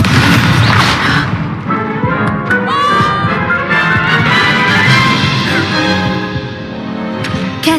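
Incendio fire spell cast in Hogwarts Legacy, a loud booming whoosh followed by a sustained crackling burst with tonal magical shimmer, continuous and close.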